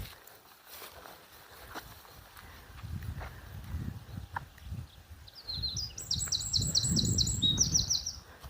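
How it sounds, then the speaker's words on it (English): Birds in a churchyard give a quick run of bright, repeated chirps in the background, heard faintly over low rumbling noise and soft shuffling sounds nearby. "we have the birds singing, which is also very welcoming"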